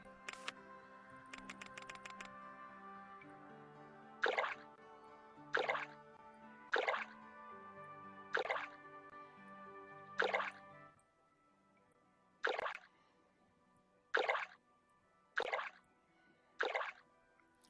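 Water fills a lake in the PC game RollerCoaster Tycoon, heard as a series of about nine separate bright bloop-like plops at roughly even intervals over soft game music, with no speech.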